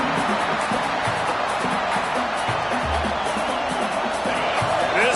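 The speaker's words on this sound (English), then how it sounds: "This crowd knows when to bring it." A stadium crowd in the College Football 26 video game, at a Notre Dame matchup, gives a steady, dense roar of cheering that holds at an even level throughout.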